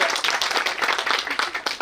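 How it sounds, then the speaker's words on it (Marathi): A short burst of applause at a school batch reunion, many hands clapping together loudly and evenly for a couple of seconds. "तिच्यासाठी पुनश्च टाळ्या होऊन जाऊ"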